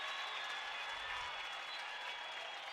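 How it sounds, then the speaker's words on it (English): Soccer stadium crowd at a Real Salt Lake vs. Seattle Sounders FC U.S. Open Cup match, a dense continuous roar of cheering and clapping from a large distant audience, steady and unbroken. "You can hear the crowd."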